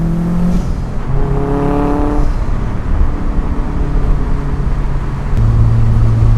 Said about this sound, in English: There's the corner. I'm on the gas and gone.